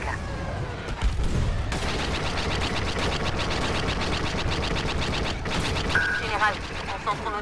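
Dense, continuous battle din of blaster fire against a cruiser in Star Wars Battlefront II, rapid overlapping bursts and booms at steady high loudness throughout, with game music and effects layered in.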